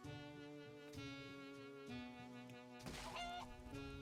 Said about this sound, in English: Why did I just hear the sound of a dying chicken?